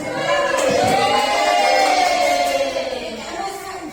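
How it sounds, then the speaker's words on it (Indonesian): A school crowd cheers and shouts together in one loud, sustained roar that swells and then slowly fades. "Kasih tepuk tangan tuh, buat gue kasih tepuk tangan."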